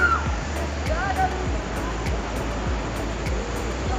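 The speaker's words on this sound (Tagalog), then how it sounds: "Ito ang Taytay Falls, isa sa mga kilalang talon na matatagpuan sa paanan ng Mount Banahaw." Taytay Falls, a waterfall at the foot of Mount Banahaw, gives a constant rushing roar of falling water under repeated low thumps, with faint voices and a brief higher vocal sound at the start.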